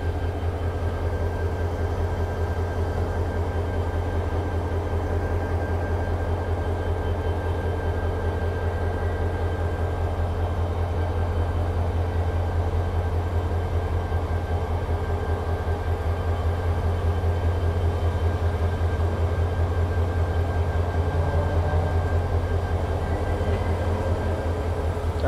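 A train moving through dense jungle forest: a steady, continuous low rumble of wheels and carriage noise from inside the train, unchanging throughout.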